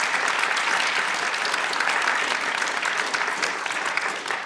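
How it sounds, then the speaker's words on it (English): Sustained applause from a forum audience after a panel discussion, dense and steady clapping that fills the whole stretch and tapers slightly at the end. "please give them a round of applause"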